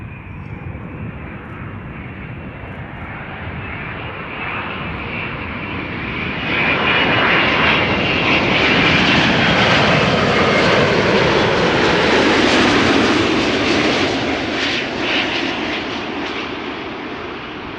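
A KLM airliner arriving from Scotland roars in to land at Amsterdam Schiphol, its engine noise loud and steady and swelling to a peak midway before easing slightly as it passes.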